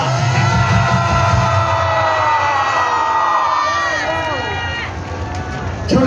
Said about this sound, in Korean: 우리 김문수 노동부 장관 힘내시도록 큰 박수 한번 해주시기 바랍니다